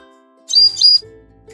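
A bluebird gives a short, bright chirp lasting about half a second, heard over soft, steady background music.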